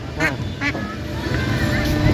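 Two short duck quacks sound a moment apart over steady bustle and murmuring voices at Dhalapara village market in Ghatail, Tangail, Bangladesh, with engine rumble in the background.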